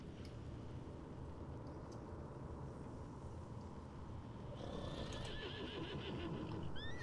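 A horse in a video game whinnies, its neighs rising over a dense, steady rumble of hooves and ambient game noise, the calls growing clearer toward the end.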